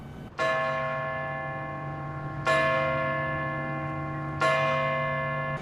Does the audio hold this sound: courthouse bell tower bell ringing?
yes